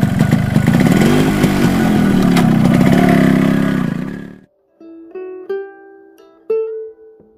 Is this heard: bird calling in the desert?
no